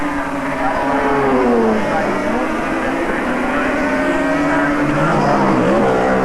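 Racing motorcycles at the 1985 Bathurst Grand Prix howl past in a dense, continuous engine drone with rising and falling pitch, loud and sustained throughout, while a commentator talks over them.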